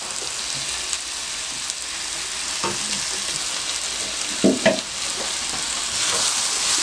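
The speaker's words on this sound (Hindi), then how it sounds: "मैं देसी घी का तड़का दे रही हूँ।" Desi ghee hisses and sizzles steadily in a hot pan for tempering, a bright crackling wash with a few soft stirring clinks.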